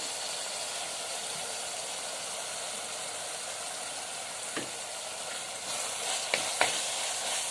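Spice masala frying in oil with softened tomatoes for a fish chilli curry, giving a soft, steady sizzle throughout, with a few scraping stirs and clinks near the end.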